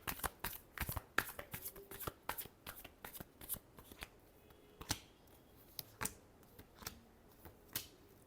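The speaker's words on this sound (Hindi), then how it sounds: "Last shuffle." Tarot cards being shuffled by hand, a quick series of crisp riffling bursts and soft slaps, close and fairly quiet, with short pauses between them.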